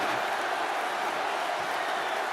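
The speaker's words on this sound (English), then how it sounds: "Listen to this crowd." A dense arena crowd roars continuously in the wrestling video game WWE 2K25, a broad, steady wash of cheering without breaks.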